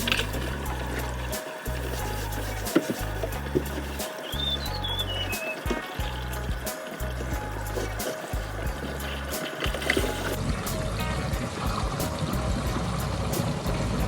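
Water running and pouring down a drainage outlet with a steady gurgling trickle, continuous and close, with bursts of low rumble along the way.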